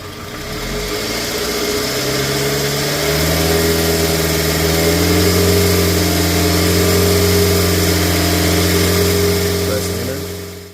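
A Scion xB car engine revs up from idle and then holds steady at about 2,500 RPM, giving a loud, continuous mechanical drone heard close by.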